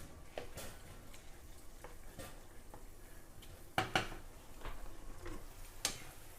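Onions and garlic cook in a pan with a splash of red wine, giving a soft, steady low sizzle broken by a few faint clicks and utensil taps.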